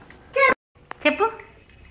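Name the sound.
child imitating a dog barking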